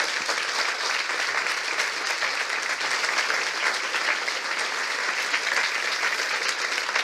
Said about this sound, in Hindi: आइए प्रभु के लिए एक अच्छी ताली बजाएंगे।